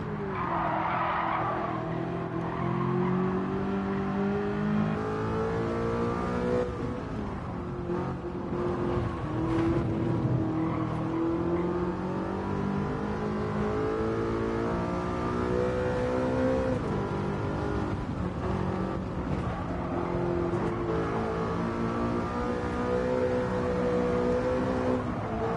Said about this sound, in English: Drifting over here.